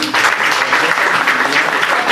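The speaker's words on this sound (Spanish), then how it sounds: "Un aplauso para el doctor Fernández Lamarra." Brief burst of full audience applause at a university lecture on Latin American higher education reform, dense and steady clapping close and loud for about two seconds.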